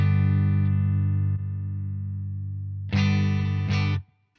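An electric guitar runs through a Boss Waza BP-1w booster set to its Space Echo side, a long sustained chord ringing out, followed by two brighter, louder strummed chords before it stops abruptly.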